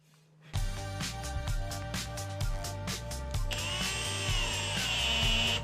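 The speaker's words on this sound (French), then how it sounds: "Percez les lattes au préalable." A power drill pre-drills wooden slats for a garden tool storage rack, a whirring motor with a rhythmic grinding pulse that shifts to a higher, smoother whine near the end.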